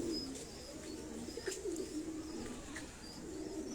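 A pigeon at a pigeon keeper's loft coos softly in low, rolling notes, faint and somewhat distant against a steady background hiss.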